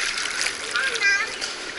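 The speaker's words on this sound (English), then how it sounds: "Don't forget to blow bubbles." A toddler in a swim class splashes in pool water, with bursts of splashing and bubbly burbling close by, brief and uneven, amid an echoing indoor pool.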